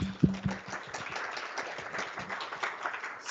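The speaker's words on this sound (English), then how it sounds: "Another round of applause." Crowd applause at a development conference session, a dense, steady wash of many hands clapping throughout, moderately loud and continuous with no voices over it.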